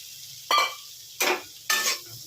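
Fried bitter gourd being stirred into spice masala in a pan, three separate scraping, sizzling strokes, close and distinct with quiet gaps between them and no talking.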